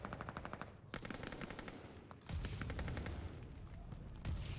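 Rapid automatic fire from a BAR in Call of Duty: Vanguard during a Hardpoint match, with dense bursts of sharp shots that stop briefly and then resume louder and heavier, close and punchy.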